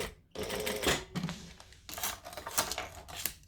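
A sewing machine tacking each side of a bag at the seam, running in short loud whirring bursts of rapid stitching separated by brief pauses, close up and with no talking.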